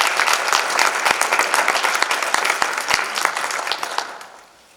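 Room full of people at a school board meeting applauding, steady dense clapping with a few sharper near claps, tapering off toward the end.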